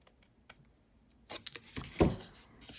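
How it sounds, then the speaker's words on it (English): Scissors snipping through paper card stock close by, a few faint taps at first, then a cluster of sharp crisp cuts and a louder crunching snip, with no talking. "now all I need to do is cut these two outer parts off."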